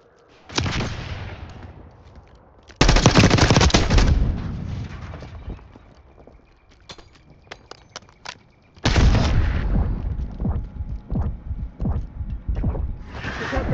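Heavy gunfire in a video game battle, loud bursts of rapid shots in two long volleys with a quieter rumbling stretch and scattered single pops between them, no talking.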